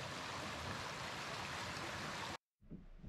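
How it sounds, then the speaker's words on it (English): A small creek flowing near a portage in Algonquin backcountry, a steady, continuous rushing wash of water heard close, which cuts off abruptly near the end before a softer burst of water returns. "So a little creek that's leading from the portage up to Maple Creek."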